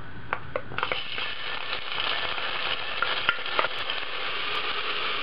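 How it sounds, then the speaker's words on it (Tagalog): Garlic frying in hot cooking oil in a cooking pot, made for goto, gives a steady bright sizzle with a few sharp crackles and scraping stirs near the start, continuing without any talk. "kapag mainit na yung cooking oil, lalagay na natin yung garlic"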